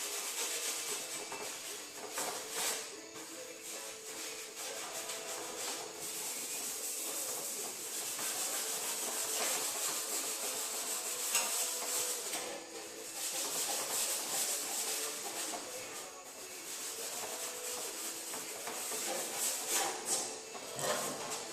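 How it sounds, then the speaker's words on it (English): A Scotch-Brite pad rubs over a sanded fender on a 2010 Honda Civic sedan in a continuous scratchy, hissing scrub, with rhythmic strokes swelling and easing over about twenty seconds. "Now I can finish going through with the Scotch-Brite."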